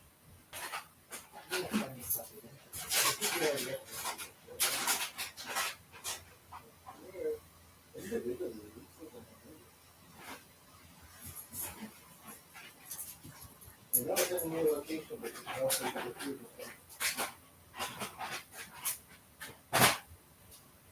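A dog pants and whimpers close by in soft, intermittent bursts, while people talk over and between the sounds.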